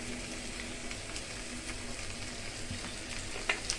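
Spices sizzle in a pan of oil for a Bengali egg curry made with nigella seeds. The frying hiss is soft and steady, fairly faint and close, with a couple of small clicks near the end.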